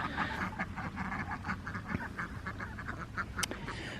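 Runner ducks quack steadily in a pen, a flock of overlapping, rapid calls at moderate distance with no talking.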